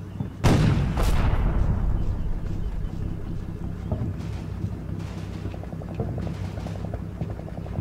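Vickers machine guns in the Combat Mission: Rome to Victory war game blast two heavy, booming shots early on, followed by a rumbling low battlefield din with faint rhythmic ticking later.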